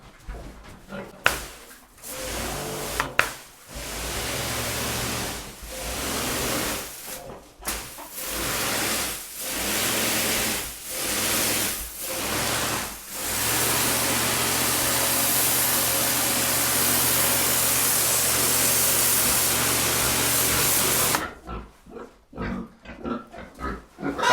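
A pressure washer sprays in long continuous bursts, cutting on and off repeatedly, then running steadily for several seconds; hens cluck faintly nearby.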